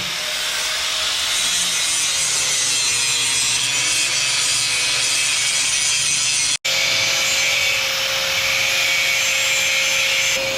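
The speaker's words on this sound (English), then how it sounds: "Lots of grinding." Loud, continuous abrasive grinding on metal parts of a truck, a harsh broadband rasp that runs steadily for about ten seconds with one brief cut-out partway through.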